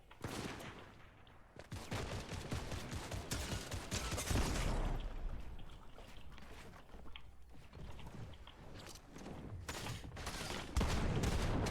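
Rapid bursts of gunfire in the video game Fortnite, clustered volleys and sharp cracks repeating across the clip at moderate loudness with no talk over them.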